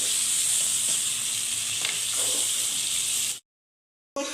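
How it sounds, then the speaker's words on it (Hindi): Meat for aloo gosht fries in a pan with a loud, steady, hissing sizzle heard up close, then cuts to silence before the sizzle briefly returns. "अब हम इसको फ्राई करेंगे।"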